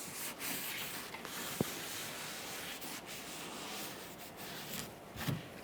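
A clean rag wipes along a car's rear bumper cover on a 2012-2015 Honda Civic, producing soft, quiet rubbing strokes close by with an occasional faint tap.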